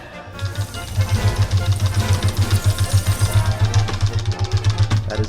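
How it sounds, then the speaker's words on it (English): Rapid, steady slapping of the escape key on a computer keyboard: a fast train of evenly spaced, dull thumping taps, close and fairly loud, continuing for several seconds with no talking. "That is the sound of me rapidly slapping the escape key."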